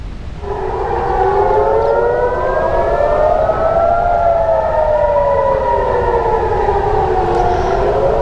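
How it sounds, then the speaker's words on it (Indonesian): A civil defense air raid siren in Jerusalem wails continuously during an Israel–Iran missile exchange, its pitch slowly rising and falling, loud and sustained with no voices. "sirine meraung saat Israel dan Iran saling melancarkan serangan"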